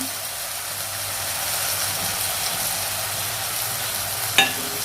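Shallots and curry leaves sizzle steadily in hot oil for an anchovy thoran, a continuous close frying hiss with one brief sharp clatter near the end and no talking.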